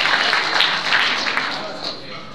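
Big audience applause in a lecture hall at a student design presentation, a dense continuous wash of many hands clapping that stays loud throughout, with some voices mixed in.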